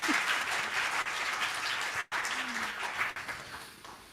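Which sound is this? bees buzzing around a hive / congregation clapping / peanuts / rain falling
congregation clapping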